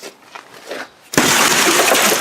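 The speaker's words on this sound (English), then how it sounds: "this is definitely one of my funnest times doing demolition derby cars, is smashing windows out." After a quiet moment, a demolition derby car's back window is smashed out, and the glass bursts into a loud, sudden shatter that keeps crashing and tinkling to the end.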